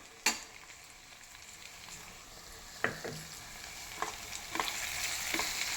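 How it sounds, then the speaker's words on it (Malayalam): Onions sautéing in a pan with spice powders added for a mushroom roast, a steady soft sizzle with a few sharp spoon-against-pan clicks and stirring scrapes, close and fairly quiet, no talking. "ഇനി നല്ലവണ്ണം ഒന്ന് വഴറ്റുക."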